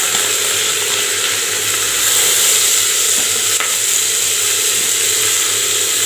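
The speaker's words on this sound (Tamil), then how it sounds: "எல்லாத்தையும் போட்டு தாளிச்சிக்கிறேன்" Spices and bay leaf tempering in hot oil before green chillies and onions go in: a loud, continuous crackling sizzle, steady and close, with a faint tap or stir midway.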